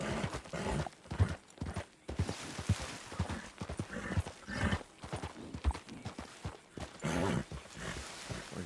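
Horse hooves clip-clop in a video game, a brisk, steady rhythm of close hoofbeats that continues throughout, with an occasional whinny mixed in.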